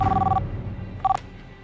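An office telephone at an insurance company rings twice, with a short electronic trill, a pause, then a second shorter burst, fairly clear against a quiet room.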